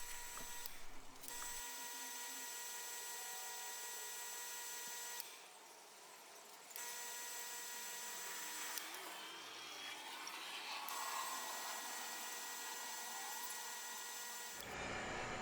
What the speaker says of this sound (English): Then I sand the base of the brush until it matches the rest that I sanded earlier.